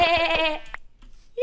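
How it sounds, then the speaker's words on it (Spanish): A sheep in the video game Minecraft bleats once, a loud, wavering, nasal cry lasting about half a second, followed by near silence and a brief sound at the end. "¡Ovejas!"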